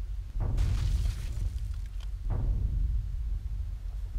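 Catapult stones strike castle gates during a siege in the strategy game Third Age Total War, heavy booming impacts rumbling over a dense, continuous battle roar with a couple of sharper hits.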